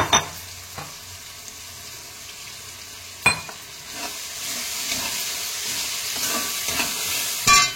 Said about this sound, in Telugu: ఇది పచ్చివాసన పోయే వరకు లో ఫ్లేమ్లో పెట్టి బాగా వేయించుకోవాలన్నమాట